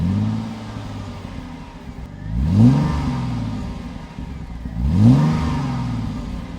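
An Audi S4 engine revs twice, each a sharp rising and falling vroom above a steady mid-pitched idle, close and loud.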